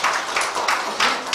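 An audience at a Korean civil society forum applauds to welcome a speaker being introduced, with bursts of clapping that swell and dip in several waves across a short stretch.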